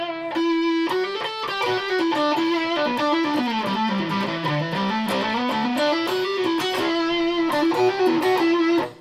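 A Telecaster-style electric guitar with a humbucker pickup plays a continuous melodic line with sustained notes and rising and falling pitch, moderately loud and clean to lightly driven, alone without talking.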